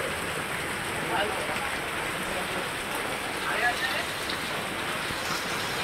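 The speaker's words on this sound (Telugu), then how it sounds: "కొల్లాపూర్లో భారీ వర్షం" Heavy Sunday-evening rain in Kollapur town falling on waterlogged, flooded roads, a steady dense hiss of drops throughout, moderately loud and even with no talk.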